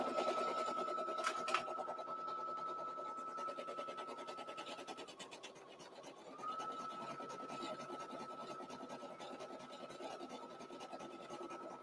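An in-the-hoop embroidery machine stitches a 4x4 denim zipper pouch, a steady rapid mechanical whirring and needle chatter running continuously, with a brief change in pitch midway and no talking.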